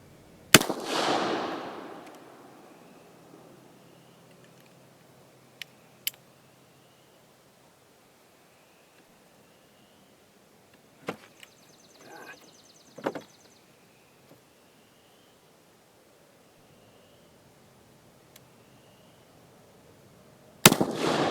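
Two sharp gunshots from an Uberti 1847 Walker cap-and-ball revolver firing test rounds, one loud blast with a ringing decay at the start and another at the very end, separated by near silence with a few faint clicks and handling noises.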